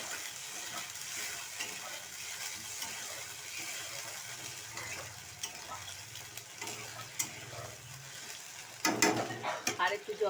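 Water is poured into a pan of sizzling cumin-paste spice masala for a fish curry, the frying hiss and stirring scrapes giving way to a louder gushing burst of steam and bubbling near the end.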